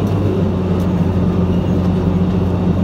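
A Fendt tractor's engine drones steadily and loudly at close range, a constant low rumble with no clear rise in pitch across the stretch and no voices.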